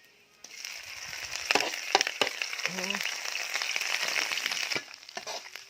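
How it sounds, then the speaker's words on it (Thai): Ingredients for Isan-style fish noodle larb sizzling and crackling in hot oil in a pan, a steady dense frying hiss with scattered pops, alone and close. "เอามาเจียวเลยครับ"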